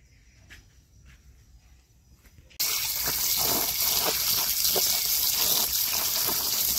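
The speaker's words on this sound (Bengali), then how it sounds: "এবারে আমি মাছগুলোকে ধুয়ে নেব।" Tap water gushes steadily into a sink as pabda fish are washed, starting abruptly after a quiet moment and continuing as a close, constant splashing flow.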